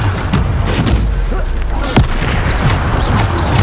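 Bombarda explosion spells in Hogwarts Legacy go off as heavy booms and thuds amid combat clatter, loud and close, with several impacts landing in quick succession over busy battle noise.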